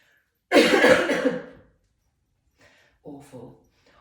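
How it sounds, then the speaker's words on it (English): A single loud, close cough with a harsh burst, followed after a pause by a couple of softer, shorter coughs or throat sounds. "I didn't have a cough until yesterday."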